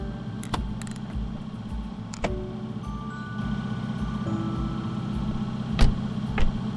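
Tata Intra truck engine idling with raised rpm during diesel particulate filter regeneration, a steady mid-pitched drone with a regular pulsing beat and a few sharp clicks, heard alone at moderate distance.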